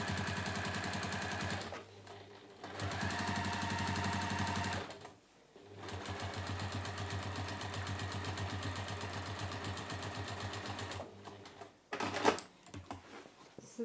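A sewing machine stitching a flat fell seam on a tote bag, running in steady bursts of rapid needle chatter with brief pauses between runs, close and loud with no talk.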